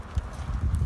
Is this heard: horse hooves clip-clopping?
yes